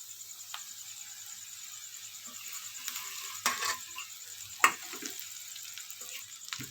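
Drumstick leaves are stir-fried with sautéed onions in a pan, making a faint, steady sizzle broken by a few sharp spatula scrapes and clicks.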